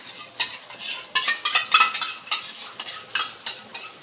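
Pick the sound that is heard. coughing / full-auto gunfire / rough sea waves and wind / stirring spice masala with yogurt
stirring spice masala with yogurt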